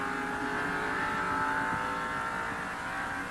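Stock cars race in the 1989 Valleydale Meats 500, a steady loud engine roar filling the track without a break and holding a constant droning pitch.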